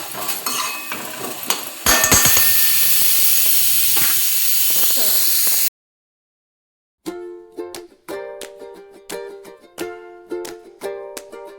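Cashew curry sizzling in a pan under a lid gives a loud, steady frying hiss. After a short silence come a series of sharp metallic clinks and taps.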